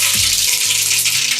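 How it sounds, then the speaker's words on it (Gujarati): Mustard seeds, cumin, bay leaf, cinnamon and cloves tempering in hot oil for sambar, giving a steady bright sizzle throughout with a few low knocks, no talking. "રાઈ, જીરું, તમાલપત્ર અને તજ લવિંગથી વઘાર કરું છું."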